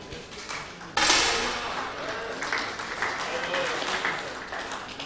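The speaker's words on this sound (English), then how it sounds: "With your big applause." Audience applause at the mixed 50m pistol SH1 final of the Al Ain 2022 para shooting world championships, breaking out suddenly and loudly, then settling into steady clapping, with a voice talking over it.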